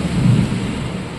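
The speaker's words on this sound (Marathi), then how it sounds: "नुसता वादळ, यो पाऊस, यो वारा" Storm noise from heavy rain, wind and thunder, a dense roaring wash with a low rumbling swell at the start, loud and close.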